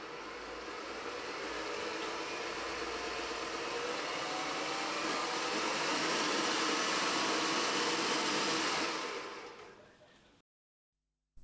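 Vintage sewing machine motor running under foot controller speed control, a continuous whirring hum that rises in loudness, holds steady, then winds down and stops.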